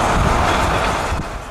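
Norfolk Southern train 295 roars past near Cordele, Georgia, a loud, dense rumble and wheel hiss filling the air at close range, with no voices.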